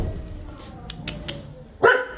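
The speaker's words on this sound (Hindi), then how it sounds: "तू क्यों भौंक रही है?" A dog barks once in a residential lane in India, a single sharp, loud bark near the end that rises out of quieter background noise.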